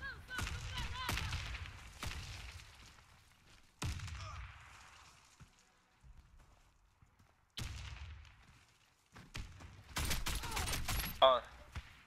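Bursts of rapid gunfire in the video game Warface crackle in clusters with quiet gaps between them, some volleys close and sharp, others more distant, under faint voices.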